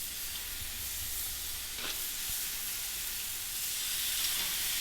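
Marinated pork tenderloin searing on a grill, a steady faint sizzle and hiss throughout with no talk.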